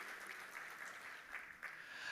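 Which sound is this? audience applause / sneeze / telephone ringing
audience applause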